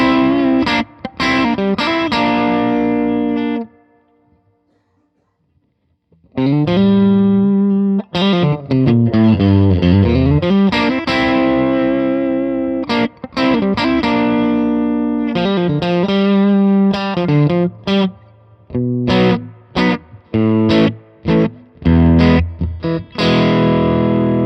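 Loud distorted electric guitar through an amp and a homemade speaker cabinet, with gain around 3 and the master turned down, played as chugging riffs and ringing chords with a brief pause early on and no talking.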